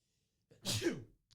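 A single sharp human sneeze, close and fairly loud, bursting out after near silence and fading within about half a second.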